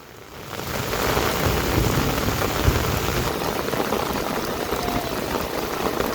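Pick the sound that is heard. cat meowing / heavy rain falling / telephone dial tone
heavy rain falling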